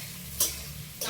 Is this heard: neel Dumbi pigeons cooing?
no